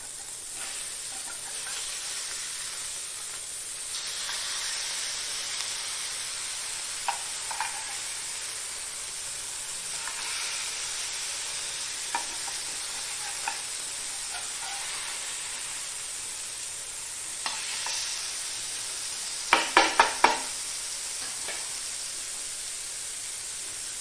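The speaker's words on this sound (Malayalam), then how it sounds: "അങ്ങനെ അടുത്ത മീൻ വറുത്ത കൂടി കഴിഞ്ഞിരിക്കുകയാണ്" Fish marinated with milk and masala fries in a pan, giving a steady close sizzle throughout with occasional small crackles and a short burst of spattering pops near the end.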